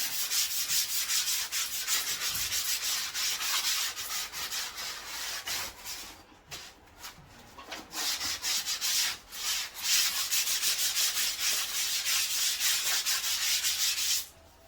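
Steady close scraping and rubbing as a plaster surface is smoothed by hand before painting, continuous with a few short breaks and no talk.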